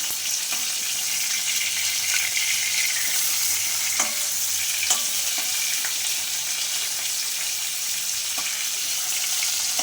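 Fish frying in a pan of hot oil in a village kitchen, a loud continuous sizzle with a few scraping clicks and knocks as the pieces are turned over.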